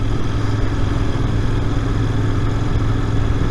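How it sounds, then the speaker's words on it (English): A Royal Enfield Interceptor 650, an air- and oil-cooled twin-cylinder motorcycle, drones steadily and loudly from its engine. The noise is dense and unbroken, with wind rush over it and no talking. "a true modern retro, air and oil cooled twin cylinder 650"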